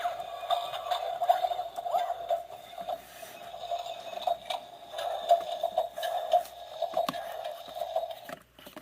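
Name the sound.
ED-209 style robot toy walking sound effect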